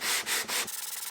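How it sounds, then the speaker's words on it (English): Hand sanding an oak casement window joint: three long, loud rasping strokes of sandpaper on wood, then quicker, lighter rubbing strokes close by. "just enough sanding on this joint to take the pencil line away here and sand the planar ripples"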